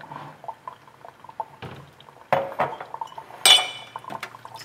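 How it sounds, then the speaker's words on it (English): A plastic syrup pump being handled and soaked in a basin of warm water, with sloshing, dripping and light clinks against the container in scattered bursts, close and fairly clear. "So just soak your pump in the warm water for a bit."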